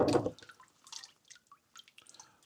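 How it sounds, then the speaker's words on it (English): Water drips and trickles from a papermaking mould and deckle just lifted from paper pulp mixture, an initial louder splash followed by scattered small drips, close and quiet, no talking. "You can see there's water draining through."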